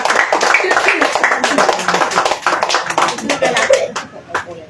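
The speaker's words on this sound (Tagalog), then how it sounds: "'26 na palakpak ninyo, hindi abot hanggang langit." A church congregation claps hands during a healing service, sharp uneven bursts of clapping that thin out toward the end, with voices mixed in.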